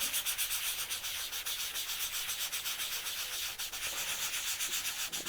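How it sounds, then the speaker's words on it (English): Steady, continuous sanding hiss as the back of a metal pendant is rubbed down before doming it, close and evenly paced with small rhythmic swells, no voices. "So in order to dome, I'm going to just sand the back."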